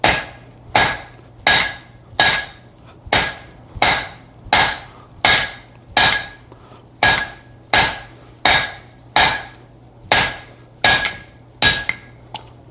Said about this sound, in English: I'm going to quickly hammer this